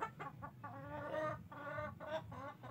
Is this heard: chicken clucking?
yes